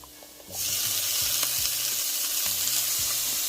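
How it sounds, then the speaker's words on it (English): Corn, peas and carrots drop into a hot pan, which breaks into loud, steady sizzling that carries on for several seconds with faint scraping of stirring underneath and no talk. "you're just going to keep sauteing all of these"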